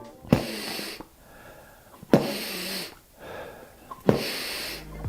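A beatboxer draws three sharp, forceful breaths in through the nose, spaced about two seconds apart. Each breath is a loud, close, breathy rush with quiet gaps between.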